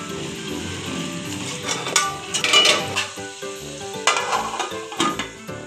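Potato and carrot curry stirred in a cooking pot, with a spoon scraping and clinking against the metal and a soft sizzle underneath, strokes coming in uneven bursts up close.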